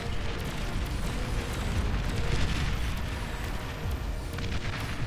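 A bombing run in Beyond All Reason, with aircraft dropping bombs as a steady roar of overlapping explosions and rumbling booms. It stays loud and dense with no gaps, and no one speaks.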